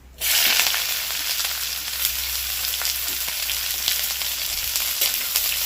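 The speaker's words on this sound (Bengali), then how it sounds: "এবার দিচ্ছি একটা গোটা পেঁয়াজ একদম কুচি কুচি করে কাটা" Finely chopped onion frying in hot oil for masoor dal, starting with a sudden loud sizzle that settles into a steady, close hiss with faint crackles and no talk.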